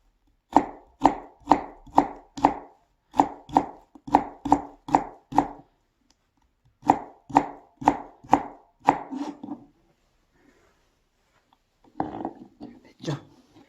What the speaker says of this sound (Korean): 여기도 마찬가지로 채를 썰어줄게요.